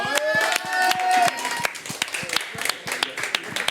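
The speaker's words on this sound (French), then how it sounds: "Vous pouvez vous applaudir aussi au passage." Scattered, thin clapping from a small group at an awards and thanks event, sharp individual claps irregularly spaced, with voices talking over the first second.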